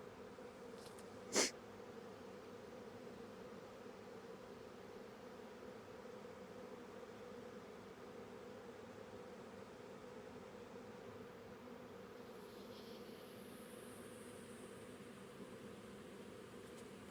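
A honeybee swarm gives off a steady, faint, continuous buzzing hum throughout, with one brief sharp click near the start and a slightly brighter drone later on.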